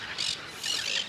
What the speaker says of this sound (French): les mouettes s'en vont